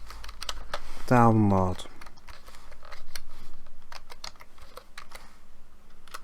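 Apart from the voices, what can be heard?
typing on computer keyboard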